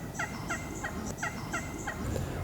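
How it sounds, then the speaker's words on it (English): Wild turkeys gobble repeatedly around a hunting blind in autumn, about six quick rattling calls in a steady rhythm at moderate distance, with a faint rustle near the end. "There are literally turkeys everywhere."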